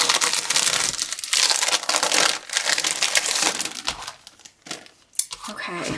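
Plastic packaging from an online shopping haul crinkles and crushes loudly and continuously, with busy rustling bursts throughout and a voice speaking in the background.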